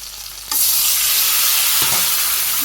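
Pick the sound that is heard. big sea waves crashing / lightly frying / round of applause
lightly frying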